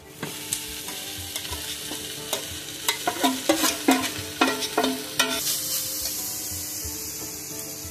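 Mashed home-grown figs added to a pan with potatoes and spices, a soft sizzle under a run of sharp spatula scrapes and knocks that cluster in the middle, then settle into a quieter steady fry.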